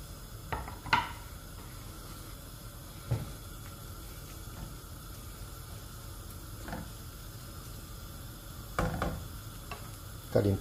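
Onion, garlic and hot pepper sautéing in a pot give a faint, steady sizzle, broken by a few short scraping stirs near the start and again toward the end, with no talking.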